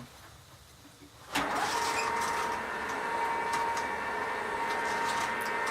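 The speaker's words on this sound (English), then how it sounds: "we're going to turn the machine back on and go back to carding it" SCP Pro 60 electric drum carder switching on and carding raw alpaca fiber: a sudden onset of steady motor whir with a faint high tone, continuing loud and even.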